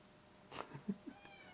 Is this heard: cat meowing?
yes